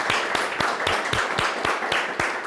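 An audience applauds for Alex in a steady, rhythmic round of clapping, loud and fairly close, with regular beats running through the whole stretch.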